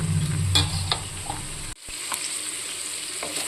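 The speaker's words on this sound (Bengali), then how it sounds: "খুব ভালো মতো করে কষিয়ে নিচ্ছি পেঁয়াজ রসুন টমেটো সব খুব ভালো মতো করে কষাতে হবে" Onion, garlic and tomato frying and stirred in a pan for a chicken kosha: a loud, continuous sizzle close up with intermittent scraping strokes and a brief dip in the middle, no talking.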